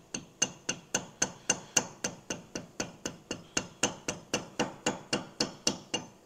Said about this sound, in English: I may have to tap it with a rubber hammer.